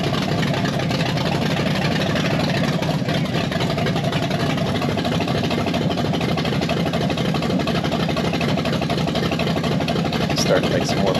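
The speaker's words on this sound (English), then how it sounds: "And now we're happy because it's idling by itself." Blueprint 540 big block V8 in a C10 truck idling on its own after timing adjustments, a steady low rumbling idle throughout with faint voices in the background.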